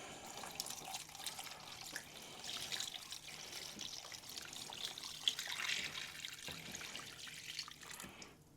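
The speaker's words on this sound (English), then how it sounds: "All right, brine in." Brine poured over salmon before smoking, a soft continuous watery trickle that swells and eases over several seconds, fairly quiet and with no talking.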